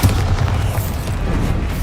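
A Bombarda spell explosion in Hogwarts Legacy booms loudly and continuously, a dense low rumble of blasts with no talking.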